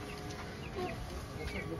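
A rooster on a small farm raising hens gives low, soft clucks amid faint chatter and background murmur, the calls brief and not very close.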